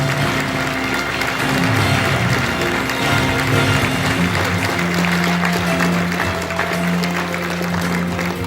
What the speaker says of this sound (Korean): 박수로 네 새해 시작을 멋지게 힘차게 함께 축하해 주시기 바랍니다